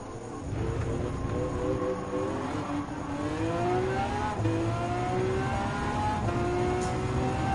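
Hypercar engine in a Gran Turismo 7 parade race, a continuous loud drone whose pitch climbs and dips through gear changes as the car accelerates and brakes, with no talking.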